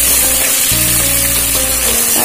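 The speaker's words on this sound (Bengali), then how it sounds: "আদা রসুন আর পেঁয়াজটা একটুখানি ভেজে নেওয়া হচ্ছে" Ginger paste, garlic and onion frying in hot oil in a pan, a loud close continuous sizzle with a low steady hum underneath, no voices.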